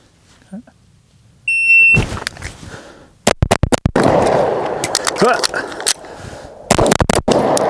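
A custom Staccato P pistol fires at an outdoor range: a high timer beep, then a sharp string of three loud, close shots, a pause for a reload, and another quick burst, with echoing range noise between.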